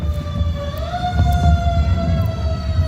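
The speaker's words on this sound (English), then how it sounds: "See, this ambulance is showing us real problems, right?" An ambulance siren passes by at an outdoor festival, a steady rising-and-falling wail with strong harmonics sounding over low crowd and traffic rumble, fairly loud throughout.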